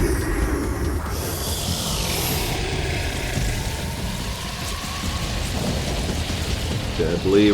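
The Deadly Rain spell in the video game Legend of Legaia sets off a heavy synthetic downpour with rolling thunder, a dense roar held loud and steady throughout, with a faint voice beneath it.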